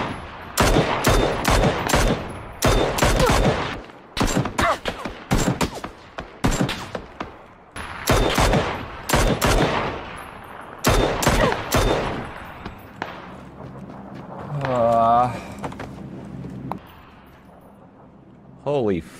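Repeated bursts of loud automatic gunfire from the battle royale game PUBG, sharp clustered shots separated by short gaps, with a player's voice speaking between and over the volleys.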